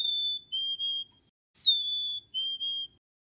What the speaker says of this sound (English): If it sounds like it's saying cheeseburger, it's a black-capped chickadee.